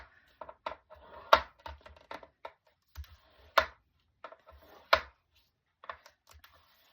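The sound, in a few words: scoring card stock every half inch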